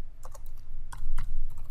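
Quick bursts of key presses on a computer keyboard as a command is typed, several crisp clicks in uneven clusters, close and fairly clear.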